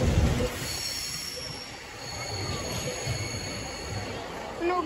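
An LNER train passes at the Lincoln High Street level crossing with steady rumbling and drawn-out wheel squeal. It is moderately distant, with a little talk underneath.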